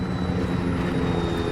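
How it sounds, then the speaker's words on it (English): A helicopter in the military video game Arma 3 drones steadily nearby, its engine and rotor making an even, unbroken roar with no talking. "Helicopter, 2 clicks, west."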